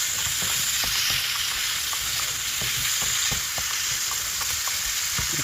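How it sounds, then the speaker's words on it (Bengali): Spices and green chilies stir-fried in a pan for a radish-greens and shrimp dish, a steady loud sizzle and hiss with scattered scraping stirs throughout, no voices. "তো এখন একটু নেড়ে এর মধ্যে কাঁচামরিচ কয়েকটা দিয়ে দিব।"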